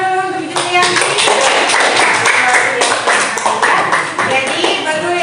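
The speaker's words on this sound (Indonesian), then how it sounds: "Tepuk tangan dulu untuk Julianti." Students in an Indonesian classroom clap together in brisk, loud applause lasting several seconds, with voices of children audible under the clapping.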